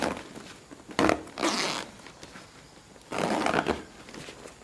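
A zipper with a bobby pin threaded through as the pull is zipped closed and opened again. It gives two quick, soft rasping runs, close by and quiet, with a faint hiss between them.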